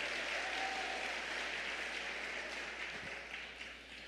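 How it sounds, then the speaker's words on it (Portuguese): A church congregation applauds together after a Bible reading, a dense wash of clapping from a mid-distance crowd that stays fairly even before gradually thinning out at the end. "vamos aplaudir a palavra do Senhor"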